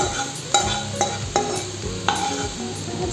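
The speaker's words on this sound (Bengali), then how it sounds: "এখন আমি পেঁয়াজগুলোকে লাল করে ভেজে নেব" Onions fry in a pan while being stirred, a steady sizzle punctuated by several sharp spatula knocks and scrapes at a regular pace.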